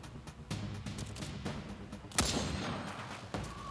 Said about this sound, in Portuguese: A Liu Wong, ela acerta com um tiro e mata os caras